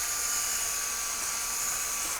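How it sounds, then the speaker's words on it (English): Variable speed drill polishing a plastic BMW headlight lens wetted with spray water, a loud, steady high-pitched whine held throughout with no break. "It's preferable that you use a variable speed drill rather than just a drill with a single fast speed."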